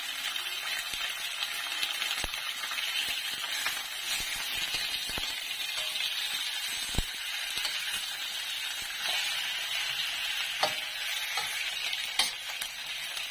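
Pork ribs (buto-buto) fry in a pan while being stirred, giving a steady soft sizzle broken by scattered scraping clicks and knocks from the utensil, all fairly quiet and without talk.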